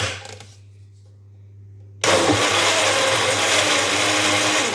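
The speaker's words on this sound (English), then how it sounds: "Then I just put it in the blender like this." A small blender, blending raspberries for a three-ingredient energy drink, kicks on abruptly after a quiet pause and whirs loud and steady up close.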